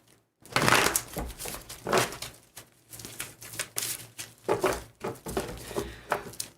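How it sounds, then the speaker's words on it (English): Tarot cards are shuffled over and over, close up, in a series of quick papery riffling bursts with short pauses between. "Couple more shuffles, guys, couple more."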